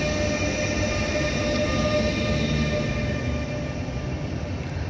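A train pulls out of Würzburg Hauptbahnhof with a loud, steady, close rumble of wheels and running gear that lasts the whole stretch, and a faint high whine above it.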